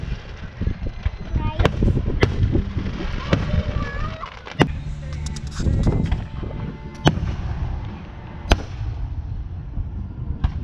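Fireworks burst at a county fair, a series of sharp booms spaced a few seconds apart over a steady crowd murmur, with people chatting nearby between the bangs.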